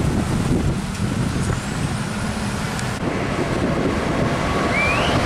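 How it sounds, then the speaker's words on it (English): Hino or Fuso tanker truck driving by on a road, a loud continuous low engine rumble with heavy wind noise throughout, no talking. "Tangki tronton."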